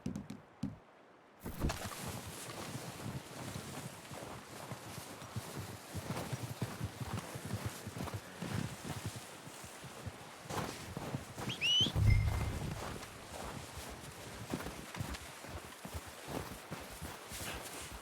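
A horse's hooves clip-clop in Red Dead Redemption 2, soft steady footfalls with a faint thump partway through, heard quietly against a low ambient background.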